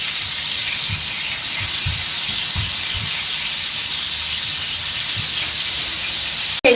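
Shrimp and jalapeños sizzle loudly in a hot pan, a steady close hiss of frying with faint low clatter underneath, running without pause until a sharp cutoff at the end.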